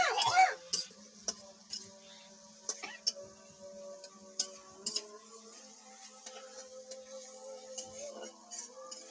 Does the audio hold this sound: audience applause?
no